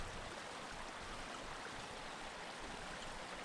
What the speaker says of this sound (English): The sound of running water is so peaceful.